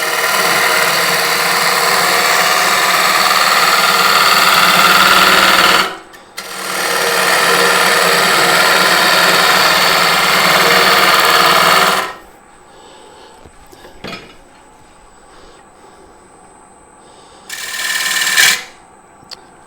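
A wood bowl spins on a lathe and is cut with a bowl gouge, giving a loud, steady whirring roar that breaks briefly, resumes, then stops, followed by quiet knocks and a short final burst.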